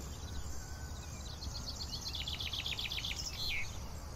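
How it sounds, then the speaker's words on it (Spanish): Many small birds chirp and twitter in a leafy grove of large trees beside a meadow, a run of rapid high calls rising over steady outdoor ambience at moderate distance. "Y en ellos se escuchan miles de pájaros piando alegres melodías."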